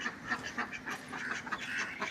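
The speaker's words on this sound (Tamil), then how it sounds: "அதேமாதிரி வாத்துக்களும் பாருங்கள்," Ducks waiting in a pen quack in a busy, overlapping chorus of nasal calls, fairly close but modest in level, with no one talking over them.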